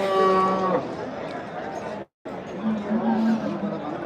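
A cow moos over a busy crowd murmur at the Rampura livestock market, where buffalo are traded, with another low moo later as voices keep chattering in the background.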